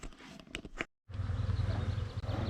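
Huge swarm of honey bees outdoors, a dense low buzzing drone that rises after a short gap of silence and holds close and steady, with scattered clicks early on.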